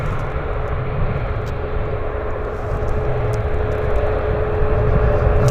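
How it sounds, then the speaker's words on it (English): WestJet airliner taxiing to a gate at Vancouver's YVR airport, a steady low jet engine rumble and whine that holds near and even, swelling slightly toward the end, with no talk. "WestJet's pulling into the gate."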